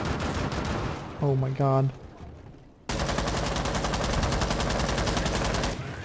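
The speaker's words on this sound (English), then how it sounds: "Getting shot from everywhere." Gunfire in a Rainbow Six Siege match: dense, continuous bursts of automatic shots, close and loud, following a brief spoken exclamation.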